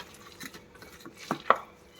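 Chopped polta leaves are worked into a bora mixture with black cumin, making a few soft, close stirring and squishing strokes in a bowl, quiet at first and sharper near the end.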